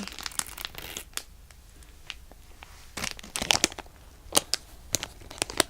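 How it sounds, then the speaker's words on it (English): A plastic bag holding a marshmallow squishy crinkles up close in irregular bursts, quiet at first and growing into louder, sharper crackles toward the end. "Now the crinkles on this bag will be quite strong"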